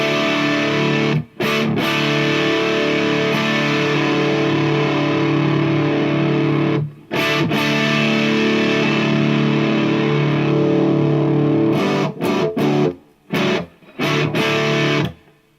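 Heavily distorted electric guitar chords through a Rovwell distortion pedal ring out loud and sustained, broken by brief choppy stops and quick restrikes near the end.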